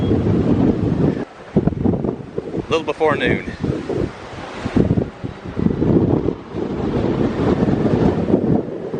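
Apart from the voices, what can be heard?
strong wind blowing into the microphone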